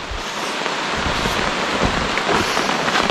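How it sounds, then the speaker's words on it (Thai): Heavy rain pours through dense forest, a steady loud hiss of drops on leaves and ground with gusty wind noise, continuous and close with no voices. "ฝนมันตกก่อนนะครับ"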